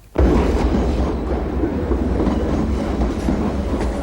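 A train rolls past close by, a loud, steady rumble with faint rail clatter filling the whole stretch from a sudden start.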